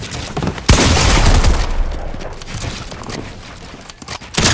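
Gunfire rattles in Fortnite, opening with a sharp, loud shot followed by a dense burst of rapid reports that taper into scattered crackles, with another shot at the end, close and punchy.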